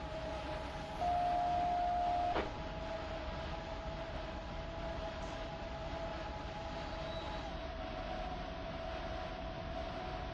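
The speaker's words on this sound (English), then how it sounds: "Here comes a train to my left." A train passes in the Run 8 train simulator game, a steady rumbling roll with a sustained horn-like tone early on, heard alone at moderate level.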